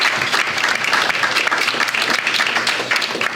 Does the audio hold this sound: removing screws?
no